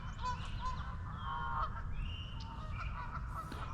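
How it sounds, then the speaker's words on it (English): Swans calling near a pond, honking goose-like cries rising over steady outdoor background noise, moderately distant and faint, several overlapping calls spread across the stretch. "The swans have been feeding right up in here real close."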